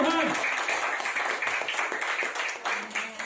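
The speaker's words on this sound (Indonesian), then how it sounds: "Berikan tepuk tangan sekali lagi buat Tuhan." A church congregation claps for God during an Indonesian evangelist's sermon, with a dense, steady patter of hands running throughout, mixed with voices and a loud room sound.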